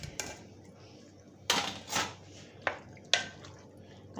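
Macaroni is stirred in a pan during home cooking, giving a few sharp metallic scrapes and clinks spaced irregularly over a few seconds, with soft wet shuffling between them and no talk.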